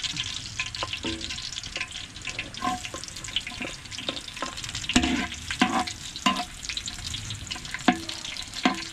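Ginger fries in a pan over a soft sizzle. Frequent clinks and scrapes come from stirring, close and moderately loud, with no talking heard.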